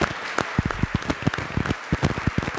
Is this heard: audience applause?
yes